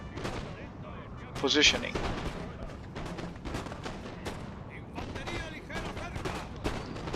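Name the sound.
musket fire on units in Napoleon Total War video game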